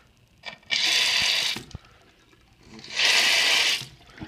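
Water gushes from a faucet in two strong bursts, flushing debris out of the plumbing lines after a leak repair, loud and close with a quieter gap between runs and no talking.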